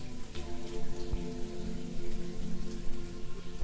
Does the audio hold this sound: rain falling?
yes